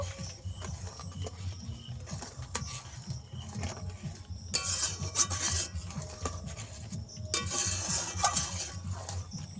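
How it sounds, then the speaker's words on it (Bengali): A spoon stirs palm fruit pulp and sugar together in a pan, making continuous rubbing, scraping strokes that swell louder in the second half, close by and without speech. "সব কিছু ভালোভাবে মিশিয়ে নেব।"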